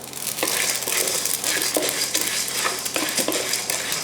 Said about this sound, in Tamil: கடலைப்பருப்பு லைட்டாக வறுத்ததுக்கு அப்புறமா மற்ற எல்லாத்தையுமே சேர்த்துடலாம்.